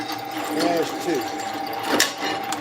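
A drill bores lanyard holes through a knife blade in a blade workshop, a steady mechanical whir with brief rising bites as the bit cuts, close by and fairly loud, with faint voices in the background.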